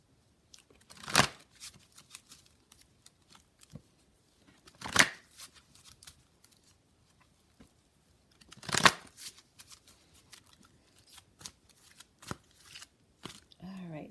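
Oracle cards being shuffled in three loud riffling bursts a few seconds apart, close up, with softer card handling between them and quiet talk in the background.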